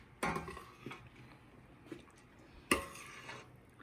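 A ladle scoops egg and macaroni in a pot, making a few soft, scattered metallic clinks and scrapes against the pot, fairly faint and close.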